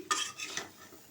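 Fried cauliflower and potatoes tipped into a pan of oily spice paste and stirred, giving a short scraping, sizzling burst that quickly fades to a soft hiss.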